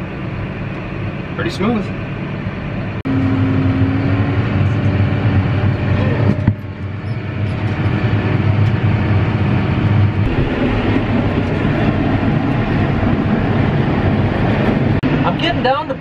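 A tractor's PTO-driven snow blower runs steadily the whole time, a loud, even mechanical drone with a brief engagement shift early on, clearing snow down toward bare gravel while someone speaks briefly over it.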